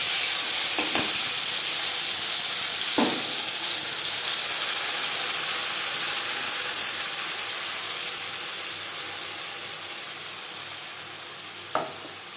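Masala paste fries in three spoons of hot refined oil for a dhaba-style chana masala, giving a steady close hiss with a few sharp clinks of a spoon against the pan.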